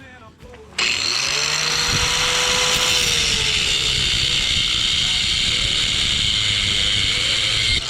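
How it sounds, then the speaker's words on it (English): A cheap Harbor Freight angle grinder with a Warrior cutoff wheel spins up and cuts steadily through a 1/4 inch bolt, a loud sustained high-pitched grinding scream close by. "we're gonna go ahead and start with a 1/4 inch bolt with the Warrior branded cutoff wheel"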